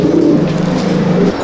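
Pigeons at a loft give low, rounded cooing calls close to the microphone, a continuous throaty murmur that fades out at the end, with no talking.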